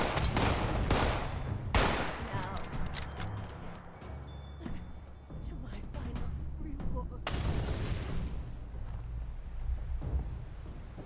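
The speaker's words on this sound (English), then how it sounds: "I'm just hearing like bullets whiz by" Gunfire crackles and booms in busy bursts in the video game Fallout 76, with sharp shots and rumbling reports over a steady background, loud and close.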